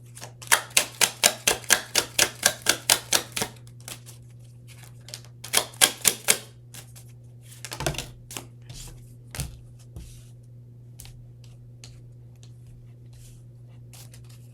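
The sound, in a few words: tarot cards being shuffled and drawn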